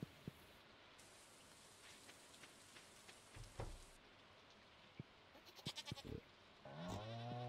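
Steady rain in the Stardew Valley farming game falls as a soft, even hiss throughout, with scattered clicks and taps, and a short animal bleat-like sound rising near the end.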